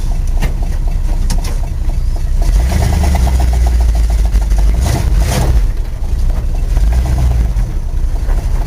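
A Chevrolet K10 pickup truck's engine, running after a starter replacement, idles loudly and steadily up close with a deep, constant rumble and no voices.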